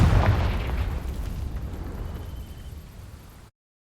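A Confringo fire spell igniting dry vines in Hogwarts Legacy, heard as a loud, close burst that rolls into a fading crackling rumble over about three seconds before cutting to silence.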